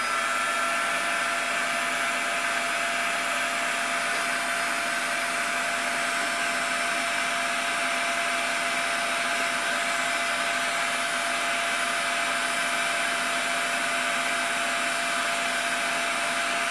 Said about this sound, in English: I'm just going to heat the board a little bit here just to get some heat into the